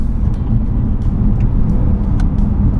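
A BMW E90 M3 on back roads gives off a steady, loud engine and road rumble that holds constant throughout, with no voices.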